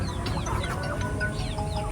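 Partridges at a zoo in a hotel garden give repeated clucking, chattering calls amid other birds, fairly close and continuous, with no talk.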